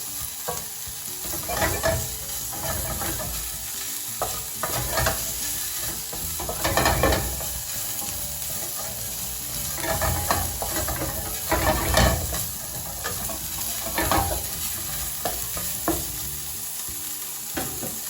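Longganisa sausage frying in a pan without oil, a steady close sizzle with repeated stirring and scraping bursts throughout, no talking.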